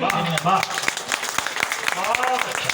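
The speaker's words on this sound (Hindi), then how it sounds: "आप एक बार तालियां बजा" An audience at a Hanuman Jayanti poetry gathering in Bahraich claps briefly in scattered, sharp bursts, with a voice speaking loudly over the clapping.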